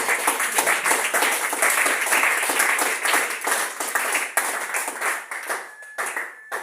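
A church congregation applauds together, a steady dense wash of many hands clapping that carries on for several seconds, loud and close, before thinning toward the end.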